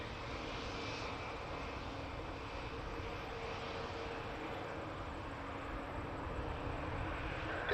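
An Air Canada A220 airliner takes off at Toronto Pearson, a steady broad jet roar heard from a distance that holds constant throughout with a faint rumble beneath.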